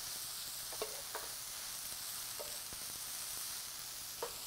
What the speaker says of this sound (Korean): 쪽파를 넣고 나서는 정말 단시간 아주 짧게 볶아줄 거예요